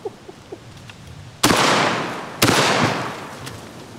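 Two loud, close blasts from a Panzer Arms M4 shotgun firing Double Up buckshot, about a second apart, each with a long rolling decay outdoors.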